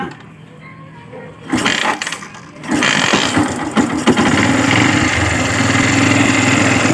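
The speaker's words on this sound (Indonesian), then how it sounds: "Ini suara mesinnya super" A Yamaha Byson motorcycle engine sputters into life after a couple of short bursts, then runs loudly and roughly, idling with a steady rattling drone nearby.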